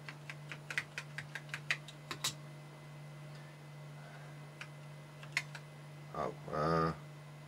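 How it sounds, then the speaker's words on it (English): Rapid keystrokes clatter on a Texas Instruments TI-99/4A computer keyboard in a quick burst, then a few scattered taps, over a steady low hum. "That keyboard is really nice to type on as well."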